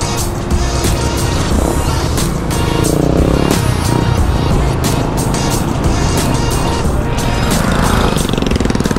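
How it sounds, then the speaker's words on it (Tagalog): A motorcycle rides along a road near the SLEX San Pedro exit, its engine loud and close throughout with rough, continuous roar and wind buffeting, and no clear talk over it. "Motor lang yung gamit natin ngayon."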